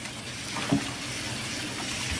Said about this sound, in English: You want to make sure that you rinse really well.